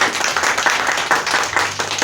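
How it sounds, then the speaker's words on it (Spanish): A church congregation applauding during a worship service, a short stretch of dense, even clapping from many hands close by. "le damos un aplauso al que vive y reina."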